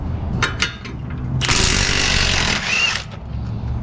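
A Milwaukee power tool bursts into a loud, steady whir for just over a second as it loosens a bolt on a Kia wheel, with a brief squeal near the end and shop clatter around it.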